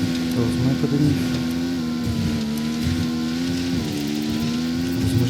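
In the video game Ghost Recon Wildlands, a motorcycle engine drones loud and steady at high revs, its pitch wavering slightly as the ride continues, with a brief dip and recovery partway through.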